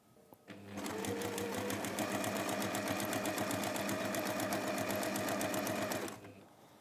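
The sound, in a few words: sewing machine joining two fabric layers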